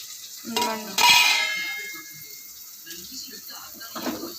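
Green chillies fry in a pan for chicken liver curry, a soft sizzle broken by a few clanks of a spoon against the pan, with a voice talking in between.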